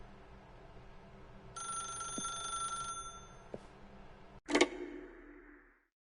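A telephone rings in The Stanley Parable: Ultra Deluxe, a bright, sustained bell tone lasting over a second, followed by a few ticks and a sharp clunk as it cuts off, then silence.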